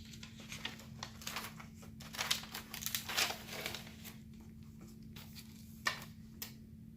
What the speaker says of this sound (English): So I'm going to have to write on the back of this now.